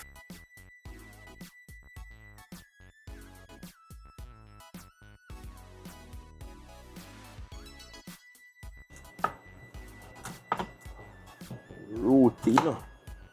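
A knife chops and splits cassava root on a cutting board, a series of sharp, irregular knocks and cuts, quiet at first and growing louder toward the end, with occasional background clatter.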